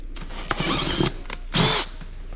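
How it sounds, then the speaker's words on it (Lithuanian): A drill working to remove a seized part from a 2009 Yamaha XJ6 motorcycle, short whirring bursts of drilling broken by pauses, close by and fairly loud. "Tai tik su grąžtu pavyko tą dalyką nuimti."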